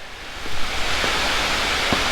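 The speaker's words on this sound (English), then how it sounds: "There's the rain. Sorry about the rain." Loud rain falls in a steady, dense broadband wash, close and constant, with a few faint knocks underneath and no talking.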